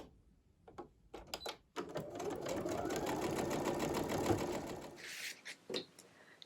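A sewing machine stitches white fabric strips onto a courthouse steps quilt block, opening with a few short bursts and then running in one steady whirring stretch of about three seconds before stopping, close and fairly quiet.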